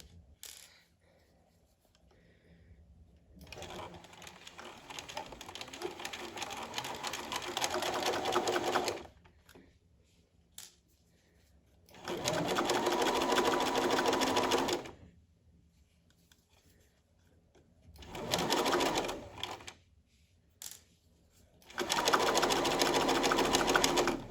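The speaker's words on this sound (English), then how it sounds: "we're going to stitch it at a 1/4 inch away from the long edge as well" Sewing machine stitching a quarter-inch seam along a fabric edge for a shirt back neck stay, in four bursts of steady motor whir separated by short quiet pauses.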